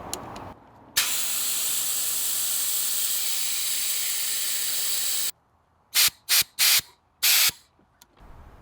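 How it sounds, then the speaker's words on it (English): Steady loud hiss of a hand vacuum brake bleeder drawing old fluid out of the brake reservoir on a 2018 Subaru STI, running for several seconds, then cutting off into a few short bursts of suction. "I'm going to be using this hose right here to suck out all the old fluid from the actual brake fluid reservoir."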